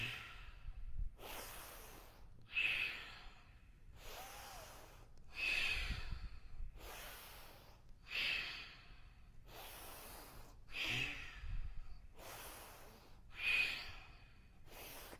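A yoga class breathes in through the nose during a hot flow session, with slow, regular breaths repeating about every two to three seconds, soft and close, with no talk over them.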